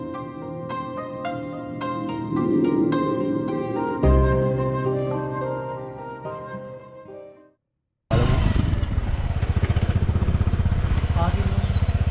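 Music plays, goes silent briefly, then a motorcycle engine rumbles close and loud with a steady, throbbing idle, near the Makandawa forest reserve at Kitulgala, Sri Lanka.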